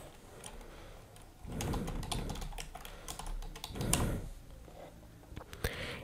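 A name being typed on a computer keyboard, heard as close, quick bursts of key clicks in two clusters with brief pauses between them, and no talking.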